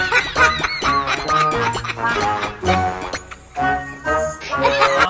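A crowd of ducks quacking loudly and close, overlapping harsh calls piling on one another in rapid bursts with only a short lull midway.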